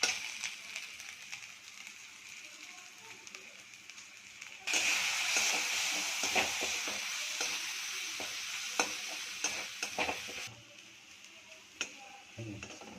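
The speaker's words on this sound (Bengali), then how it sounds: "এবারে এই যে গুঁড়ো মশলা যেটা আছে ওটা এর মধ্যে দিয়ে দেবো।" Ground spice powder is stirred into a frying masala in a kadai, a sharp, loud sizzle surging midway with repeated scraping and ticking spatula strokes, then settling back to a quieter fry.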